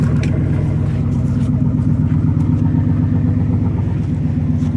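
A GMC Yukon engine idles after a cold start on a winter morning, a steady close low rumble with a faint pulsing rhythm and no talking.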